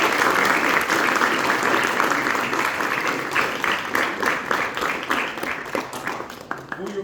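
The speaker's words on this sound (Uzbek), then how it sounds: "Guldiroz qarsaklaringiz." A concert audience greets a first-year student ensemble of traditional instruments with loud, sustained applause, many hands clapping at once, thinning into more distinct individual claps toward the end.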